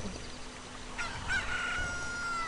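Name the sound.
rooster crowing at daybreak in a Zelda video game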